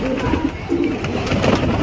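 Soft, repeated cooing of pigeons kept for flying, close by near their water, overlapping low calls over a steady background hum.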